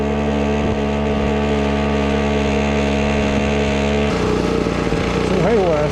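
An 18cc two-stroke diesel engine running steadily with a buzzing, harmonic drone, then shifting to a rougher, busier tone as more throttle is given near the end, loud and close.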